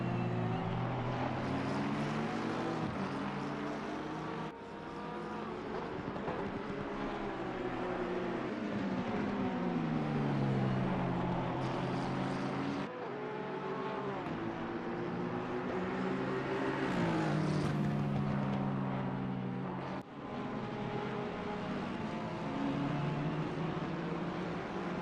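Aston Martin and McLaren race cars in a racing game at Barcelona endurance event, engines droning loudly and continuously, revving up and down through gear changes with pitch sweeps as the cars battle closely, with no talk over it.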